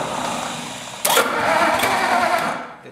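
A 1956 Ford engine with a crooked, damaged front pulley cranks and catches suddenly, then runs loud and rough for about a second and a half before its roar begins to drop away.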